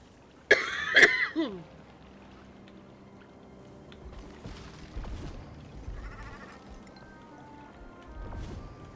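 A person coughs a few harsh times in a quick burst close to the mic, then the coughing fades into quiet room and game background.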